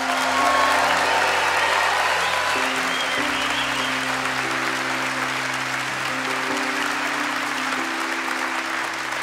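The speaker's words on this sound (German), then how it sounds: "Was haltet ihr davon, wenn wir den Online-Leuten mal einen fetten Applaus geben und ihnen gute Besserung wünschen, aber richtig laut?" Large crowd at a Christmas event in an arena giving loud, sustained applause with scattered cheers and whoops, while a low sustained musical tone plays underneath the whole time.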